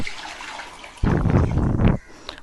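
Soaked rice and its soaking water poured into a pressure cooker, a burst of splashing liquid lasting about a second, close and fairly loud, after a quiet lead-in.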